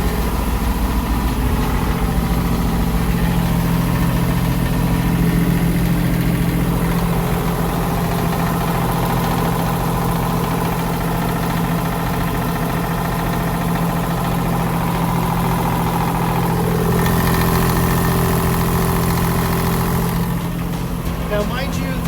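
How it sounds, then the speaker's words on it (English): A boat's diesel engine running, heard from down in the cabin with the noise suppression panels removed, a loud, steady low drone and rumble that continues without a break. "this is how loud the diesel is"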